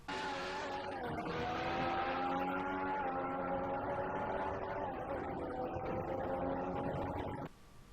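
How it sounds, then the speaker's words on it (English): Formula 1 car engine from the F1 2014 racing game, a sustained high-pitched whine with rising and falling gear changes over about seven seconds before it cuts off abruptly, loud and alone. "the car in the game sound much like the cars in real life. Here, take a listen"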